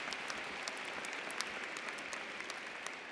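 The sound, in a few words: audience clapping at commencement ceremony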